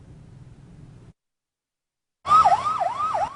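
An emergency vehicle siren in Peoria starts abruptly after a brief silence, wailing in a rapid rising-and-falling yelp pattern, loud and fairly close, with faint background noise before it.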